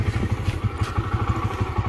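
A Honda CS1 125cc single-cylinder motorcycle engine runs close by with an even, steady thumping pulse and a faint mechanical clatter, loud and alone without talk.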